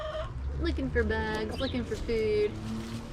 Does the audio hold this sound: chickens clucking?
yes